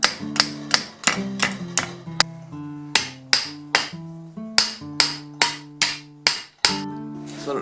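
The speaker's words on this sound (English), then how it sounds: "I'm sort of punching forward with this top corner of the hammer so that it'll start to create this indent" A hammer's corner punching indents into a steel armor gauntlet plate, about fifteen sharp ringing metallic strikes at a steady rhythm, each leaving a brief pitched ring, close and loud with no speech.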